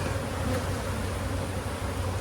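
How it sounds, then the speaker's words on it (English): Dense, steady buzzing of many honey bees packed inside a nuc hive, close and continuous with no pauses and no talking. "There's so many bees in here, it's hard to tell."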